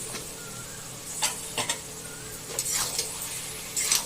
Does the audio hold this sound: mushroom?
yes